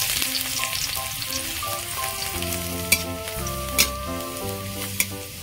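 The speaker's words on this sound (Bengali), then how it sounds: "ওই তেলের মধ্যে আমি রসুন কুচি দেব।" Chopped garlic fries in hot oil with a continuous close sizzle, stirred now and then with a few sharp utensil clinks, while a tonal melody plays in the background.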